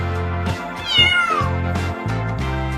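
A cat meows loudly and close in several drawn-out calls, one rising into a sharp, wavering high cry, with no other sounds.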